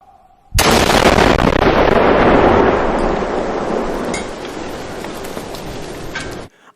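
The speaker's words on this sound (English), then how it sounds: "causing a huge explosion in the middle of the sky" A huge missile explosion in the sky erupts suddenly as a loud, sustained roaring blast, rumbling and crackling for about six seconds before cutting off abruptly, with no voices.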